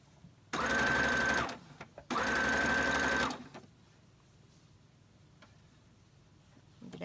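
A sewing machine runs in two loud, steady bursts of about a second each, stitching a dress straight through without basting, followed by quiet with faint handling noise.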